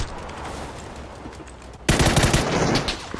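Gunfire in PUBG: muffled distant shots give way to a sudden loud burst of rapid automatic fire up close that continues to the end.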